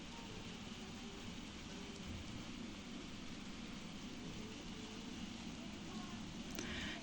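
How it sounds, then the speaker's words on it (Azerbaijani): Rain falls steadily outside, a faint, even hiss with no pauses that lasts the whole time. "Yenə yağış yağır."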